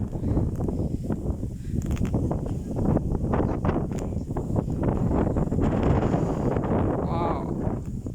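Strong gusts of wind buffet an open field during a storm, a continuous roaring rumble with microphone buffeting that swells and surges throughout.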